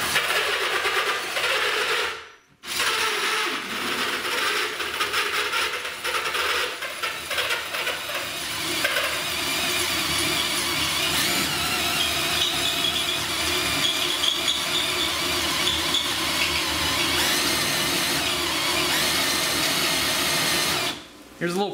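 A power drill bores a hole through the glass wall of a 240-gallon aquarium tank, whining loudly and continuously for about twenty seconds with a short stop near the start, while people talk at times.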